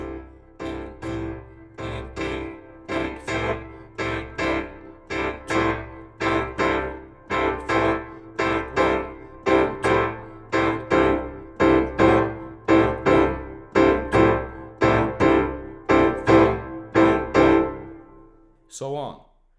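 Boogie woogie piano with both hands playing continuous eighth notes, a rolling bass line under bright repeated chords, steady and moderately loud, ending with a final struck chord.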